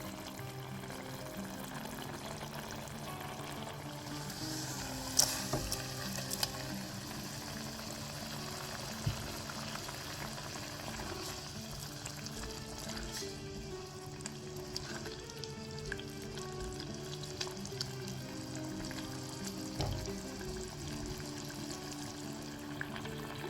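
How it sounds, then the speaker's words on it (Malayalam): A thick spicy sardine curry masala bubbles steadily in a pot, with soft pops and gurgles over a low constant hiss, close and fairly quiet. "മസാല നന്നായിട്ട് തിളച്ച് വന്നിട്ടുണ്ട്"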